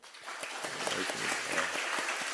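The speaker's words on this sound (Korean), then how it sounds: "우리 이여전도회를 위해서 박수 한번." A church congregation applauds a women's mission group, a dense, steady wash of clapping that swells quickly and holds evenly throughout, filling the hall.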